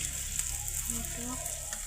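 Whole chilies sizzle in hot oil for tempering, a steady close frying hiss with faint crackles and no talking.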